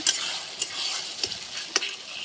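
Spice paste of ground pepper and chili for chicken is stirred and fried in a pan over a wood-fired clay stove, a steady hiss broken by a few sharp scraping stirs, close and moderately loud.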